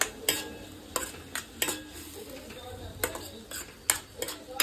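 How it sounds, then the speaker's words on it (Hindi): Spoon clinks and scrapes against a pan in an irregular rhythm while masala roasts for dal makhani, with a soft sizzle underneath; close and moderately quiet, no talking. "और इसको अच्छे से भून लूँगी मैं।"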